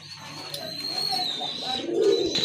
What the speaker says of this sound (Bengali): খুবই ভালো মানের এক জোড়া কবুতর